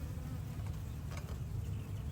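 Soft, steady buzzing of many honey bees humming together close by at an open hive, a continuous low drone without pauses.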